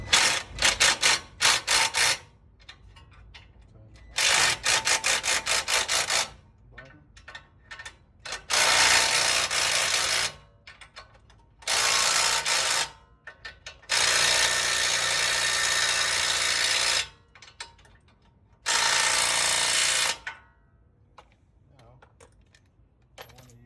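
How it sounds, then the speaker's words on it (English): Ratcheting wrench tightening the strut bolts on an Acura RDX, a 22 mm socket during a strut and shock replacement, heard as repeated bursts of rapid clicking separated by short pauses, fairly close and loud. "Using one of these, wrench."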